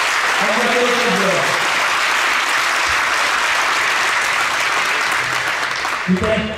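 Spectators at a women's 75+ doubles tennis match in Saguenay give four players a long, dense round of applause, with a voice speaking over it at the start and again as the clapping fades.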